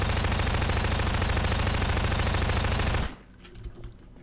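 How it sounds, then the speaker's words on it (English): Rapid sustained automatic fire from an SMG in Garry's Mod, a loud dense stream of shots for about three seconds that cuts off abruptly, leaving faint scattered clatter and quiet. "So if I get out like an SMG or a rocket launcher or this, we're gonna just shoot at a whole bunch."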